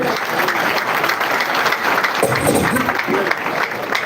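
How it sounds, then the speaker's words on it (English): An audience at a political manifesto presentation claps for a panel, a dense steady burst of applause from a crowded room lasting several seconds. "I will ask each of us to clap for our able panel."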